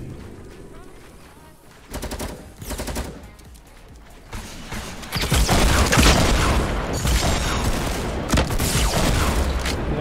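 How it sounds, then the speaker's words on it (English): Rapid video-game gunfire in a team battle-royale match, bursts of automatic fire building from scattered shots into a loud, sustained fusillade with booms, close and dominant. "I'm shooting everything that moves."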